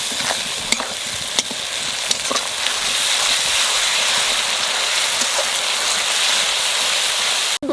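Onions fry in a hot pan with ginger, garlic and green chili paste for a mutton curry, giving a loud, steady sizzle with a few sharp clicks of stirring near the start.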